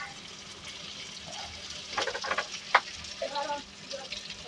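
Chicken pieces dropped into a hot pan for chilli chicken, a soft hiss and sizzle rising midway with a sharp clatter, then quieter sizzling at close range, no talk.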